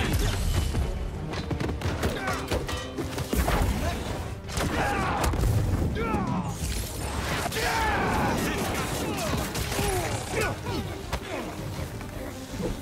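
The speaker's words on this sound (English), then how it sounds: "You guys need to stop firing at me" Enemy gunfire in Marvel's Spider-Man 2, bursts of shots and impacts mixed with thuds and mechanical clatter during fast combat, steady and busy throughout.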